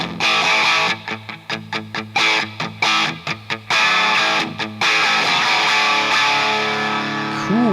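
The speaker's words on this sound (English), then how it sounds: "you get a pretty good sort of plexi sort of a sound, like a pretty good crunch sort of rhythm tone" Electric guitar played with a crunchy, plexi-style rhythm tone through a Hughes & Kettner amp, loud and close, with gain raised and reverb pulled back: choppy strummed chords, then sustained ringing notes and a closing slide, alone without talk.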